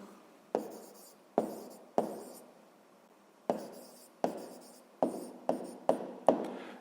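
Pen writing by hand while solving a 6th-grade math exercise: about ten short, close scratchy strokes come in uneven bursts, with quiet gaps between them and no talking.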